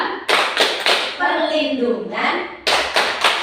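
A children's hand-clapping chant, tepuk hak anak, with sharp bursts of rhythmic claps at the start and end and a sung or spoken chant carried between them.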